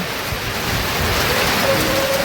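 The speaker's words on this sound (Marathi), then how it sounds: "खूप जोराचा पाऊस आहे मित्रांनो" Heavy unseasonal summer rain pours steadily and loudly, a dense continuous roar with no break and no voices.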